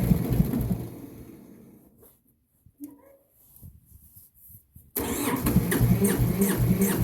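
A Massey Ferguson 205-4 diesel tractor engine turns over, then falls almost silent for a few seconds before a brief crank. It catches and runs loudly to the end.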